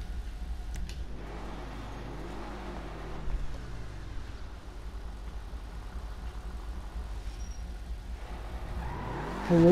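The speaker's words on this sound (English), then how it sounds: "So Emperor ATR1 supercar." Emperor ETR1 supercar engine in the GTA V video game, revving up and down in repeated rising and falling sweeps over a low idle, with sharper climbs toward the end.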